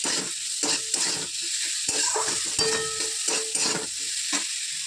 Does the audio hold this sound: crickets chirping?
no